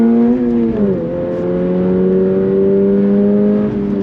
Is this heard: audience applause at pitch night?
no